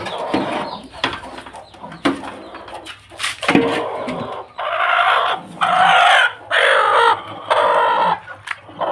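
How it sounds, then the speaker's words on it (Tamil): Chickens, including a hen hatching chicks, cluck and squawk close by in repeated bursts, with several loud, sustained calls in the second half and scattered rustling between them. "இந்த கோழியில் இப்போ தான் பொறிக்க ஆரம்பித்து பொறிச்சிட்ருக்கு"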